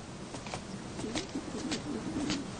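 Pigeons coo softly at a backyard coop, a low burbling call rolling on over a constant hiss of outdoor noise.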